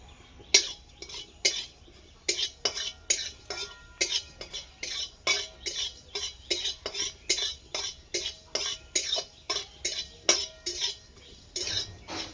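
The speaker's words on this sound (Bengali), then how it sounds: "একটু যদি কড়াই নেড়ে নিই তাহলে শিলে তাড়াতাড়ি পিসা হয়ে যাবে" A metal spatula scrapes and clinks against a wok while whole cumin and coriander seeds are stirred dry, in quick bursts of repeated strokes with short pauses between.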